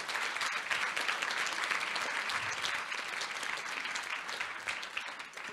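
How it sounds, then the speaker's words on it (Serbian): An audience applauds at a public event, dense sustained clapping that stays loud for several seconds and then eases slightly toward the end. "Molim vas jedan aplauz za njih."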